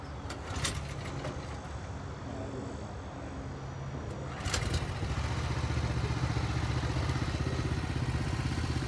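A BCS walk-behind tractor engine pull-started on a farm: a brief rope-pull clatter, then the small engine catches and settles into a steady, loud mechanical run, close by.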